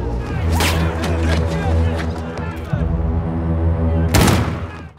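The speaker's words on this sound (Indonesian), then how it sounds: "So di sini Bob Lee merubah rencana dan meminta agen Memphis untuk membuat keributan dengan menembaki mereka" Sharp gunshots crack out in scattered bursts, with a loud volley near the end, over a droning background with voices.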